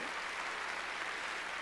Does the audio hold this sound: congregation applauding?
yes